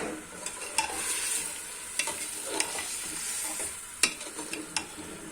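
Meat frying with yogurt in a pot sizzles steadily, punctuated by sharp scrapes and clicks of stirring at irregular intervals, close and moderately quiet, with no talking.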